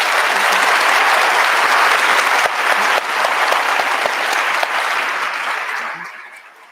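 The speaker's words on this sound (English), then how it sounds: "Please give them a round of applause again" A full audience gives a round of applause at an evening TheoEd talk in Charlotte, loud and steady for several seconds before tapering off at the end.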